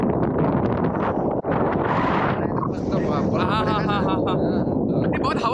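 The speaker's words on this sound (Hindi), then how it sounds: "बहुत हवा चल रहा है ना, बहुत साउंड कैप्चर नहीं करेगा" Strong wind buffets the microphone throughout a paragliding flight over Pokhara, Nepal, a loud constant roar with someone talking over it.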